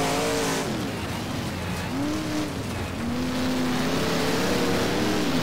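AI-driven race cars in the rFactor racing game roar past in a pack, engines droning and shifting pitch continuously as they jostle together, loud and close with no talk.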